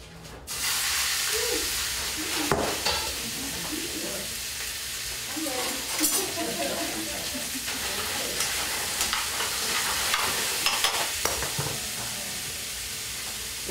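Meat searing in a smoking-hot pan gives a steady, loud sizzle and hiss that runs unbroken throughout, with scattered pops and crackles on top and faint voices talking underneath.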